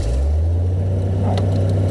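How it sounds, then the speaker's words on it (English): A Toyota truck with a swapped engine idles loud and close, a deep, steady rumble that holds level throughout with no clear rise in pitch and no voices. "Gotta rev it now, boys."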